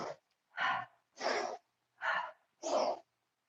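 Rhythmic breathing during a yoga class, with four quick, forceful breaths close to the mic in a steady pulse and short silent gaps between them, sharp and airy like gasps.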